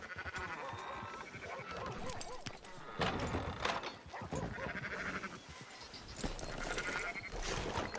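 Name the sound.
sheep bleating in Red Dead Redemption 2 video game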